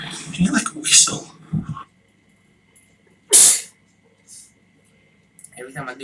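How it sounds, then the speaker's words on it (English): One sharp, breathy sneeze bursts out close to the mic between stretches of casual talk, short and loud against an otherwise quiet room. "Every time I do video, I sneeze."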